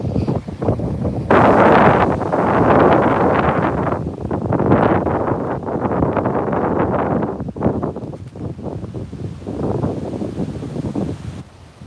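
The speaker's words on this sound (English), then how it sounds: "I'm trying to block out all the wind. Oh, it's windy down this way." Strong wind buffets a microphone outdoors with a steady, roaring rumble that surges and eases in gusts, and no voices are heard.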